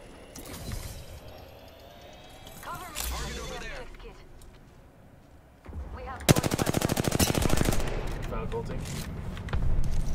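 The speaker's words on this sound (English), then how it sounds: "There's still somebody else shooting at them, though." Video game gunfire rings out in bursts: scattered single shots early on, then a long rapid machine-gun stream of evenly spaced cracks, loud and close, mixed with mechanical clicks and a voice talking.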